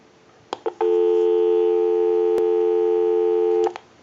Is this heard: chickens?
no